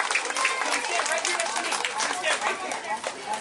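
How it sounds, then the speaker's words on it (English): Audience applause and clapping for Tina the tightrope walker at a fair circus show, a dense steady patter of many hands sustained throughout with crowd noise mixed in. "Can I please have a thunderous round of applause for the lovely Tina the Tightrope Walker?"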